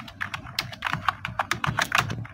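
Quick, uneven bursts of typing on a computer keyboard, individual key clicks close and fairly quiet, with no talk over them.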